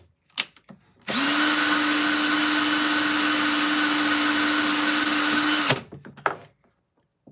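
Half dollar coin's reeded edge ground against sandpaper by a power tool that whirs steadily at a constant high pitch for about five seconds, close by, with short scrapes and clicks before and after.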